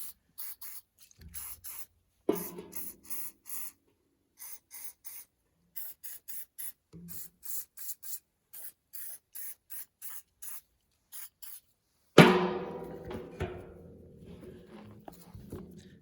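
A series of short, sharp aerosol lubricant spray bursts onto a seized 1956 Dodge truck transmission's rails in an uneven rhythm, close by, followed by a louder metallic clunk and scraping.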